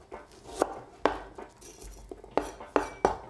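A knife slicing half a red onion into angular pieces on a cutting board, with sharp, irregular chops landing about one to two per second, close and fairly quiet with no voice.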